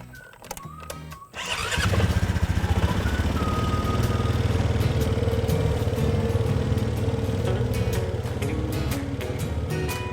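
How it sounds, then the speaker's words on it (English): A four-wheeler ATV engine roars to life on a cattle farm after a couple of seconds of quieter rattling, then runs steadily and close by, with a throaty, continuous drone. "need another reason to ride the four-wheeler some more"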